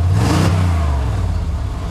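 A 1992 Chevy 2500 derby truck engine revving loudly up close, a deep rumbling roar with a brief climb early on before settling into a steady strong idle-rev drone.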